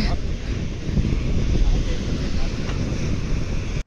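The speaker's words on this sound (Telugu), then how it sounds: "ఇది రాక్ బీచ్" Waves break against the black rocks of Rock Beach in Pondicherry, a constant roar of surf under strong wind buffeting the microphone throughout.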